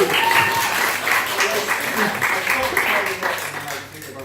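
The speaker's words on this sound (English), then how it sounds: "Round of applause for this guy, he's amazing." Audience applause for a comedian at a stand-up show, a dense clapping wash that runs steadily through the clip with chatter mixed in underneath.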